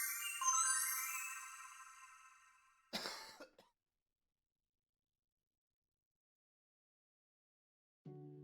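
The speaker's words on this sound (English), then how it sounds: "I'm gonna blow my nose for the first time this stream" A person blows their nose once, a short, harsh burst of air that follows a fading tonal ringing and then gives way to silence.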